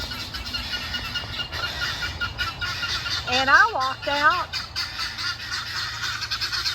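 Guinea fowl calling agitatedly on a summer homestead with chickens: a cluster of harsh, rhythmic, repeated cackling cries stands out over outdoor background noise, with a person's voice briefly heard nearby.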